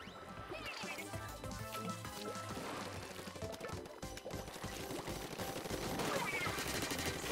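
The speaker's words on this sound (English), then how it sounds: "It's fun shooting from all the way up here." Rapid ink weapon fire in the video game Splatoon 2, shot from a high vantage point: a dense, continuous stream of quick splattering shots and impacts, mixed with game music and effects, fairly faint throughout.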